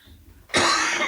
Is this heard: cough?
yes